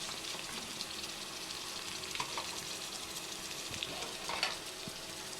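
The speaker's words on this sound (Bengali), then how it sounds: "আদা রসুনের কাঁচা গন্ধ যাওয়া পর্যন্ত আমি অল্প কিছুক্ষণ ভেজে নেব" Ginger garlic paste fries in a pan for a chicken biryani, giving a steady, soft sizzle with light stirring scrapes and faint bubbling crackles throughout. No one speaks.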